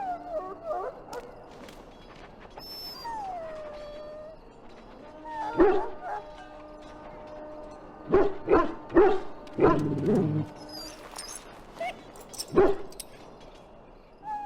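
A dog in the Dragon Age: Origins video game barks and whimpers in scattered bursts, with soft yips and whines between louder close barks, over a quiet background.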